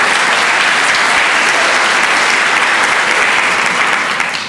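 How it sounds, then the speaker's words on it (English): Loud, dense applause fills a congregational meeting, a continuous roar of many hands clapping that holds steady throughout and fades slightly at the end. "give her another round of applause"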